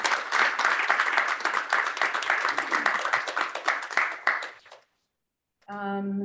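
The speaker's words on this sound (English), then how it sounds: "we'll go ahead and give a round of applause to our driftwood carving students" Applause for driftwood carving students at an Inupiaq fine arts festival, a crowd clapping steadily and fairly loud, fading out into silence before a short tonal sound begins.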